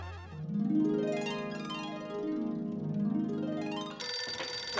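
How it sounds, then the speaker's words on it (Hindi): An electronic phone ringtone plays nearby, its tones sweeping up and down in a repeating pattern before switching to a brighter, higher ring. "एक मिनट, लगता है किसी का फोन है।"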